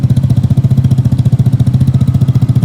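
Vespa GTV 300 S scooter engine idling through an aftermarket muffler, a close, loud, steady low burble with an even pulsing rhythm and no voices.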